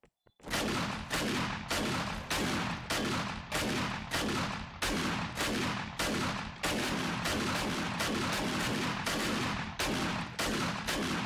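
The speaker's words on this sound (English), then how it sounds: "shoot again, keep shooting" Gunfire in 7 Days to Die: a long run of loud, close, evenly spaced shots, roughly one per half second, each a sharp crack with a short decaying tail, carrying on steadily with no talking over it.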